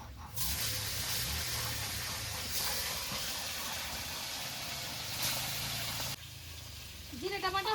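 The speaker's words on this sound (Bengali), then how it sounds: "মাছগুলো ভেজে নামিয়ে নিয়েছি এবার বাকি মাছগুলো এভাবে ভেজে নেবো" Tilapia frying in hot oil gives a steady, loud crackling sizzle and hiss for most of the span. It drops off near the end, where a voice begins.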